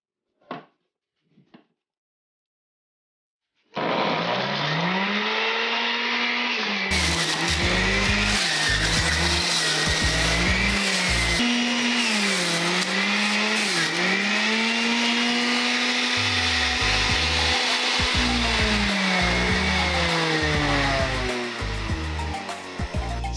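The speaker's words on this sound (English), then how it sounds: "So you can see it is super powerful, it works very fast. It produces juice right away. It's a little bit loud" A SiFENE big-mouth centrifugal juicer spins up after a few faint taps and whirs loudly for nearly twenty seconds while juicing lemon, orange and carrot pieces, its motor pitch dipping and rising as the produce is pushed in, with a rough grinding rattle.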